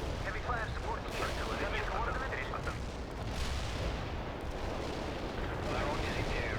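Artillery barrage in the real-time strategy game World in Conflict during a Soviet assault on a POW camp, a continuous roar of distant shelling and gunfire rumbling under faint voices.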